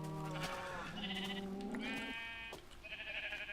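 Sheep in the Minecraft video game bleat repeatedly, several clear overlapping bleats in quick succession with game background sound and no talk.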